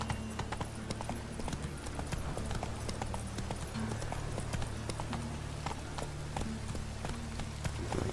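A horse gallops in The Witcher 3: Wild Hunt, a steady clip-clop of hooves running on and on under a constant low game hum, with no voices.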